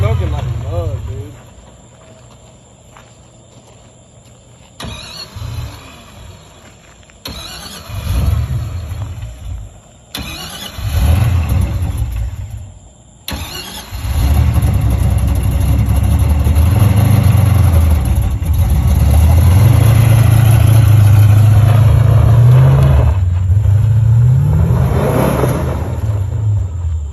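A smoking car with a failing LS engine cranks in a few short bursts, then catches and runs steadily with a loud idle and revving, voices occasionally heard nearby in a garage.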